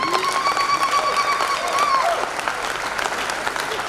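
A church congregation claps during a Mothering Sunday sermon, loud and sustained, while a sustained tone sings out above the clapping for the first two seconds before fading.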